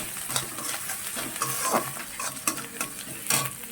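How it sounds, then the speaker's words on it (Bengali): Ginger and garlic paste frying in a pan, a close, steady sizzle broken by scraping stirs and light clinks of a spatula against the cookware. "এবার আদাটা রসুনটা ভালো করে ভেজে নিতে হবে"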